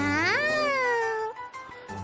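A voice acting as a cat girl in the Nekopara video game lets out one drawn-out meow, rising then gliding down in pitch, clear and close before fading to quiet.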